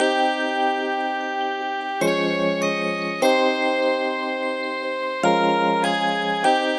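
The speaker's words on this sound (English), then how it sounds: "chords, electric piano," A clean, bell-like electric piano melody loops with sustained chords changing every second or so, bright and tinkling, played alone in a plugg beat.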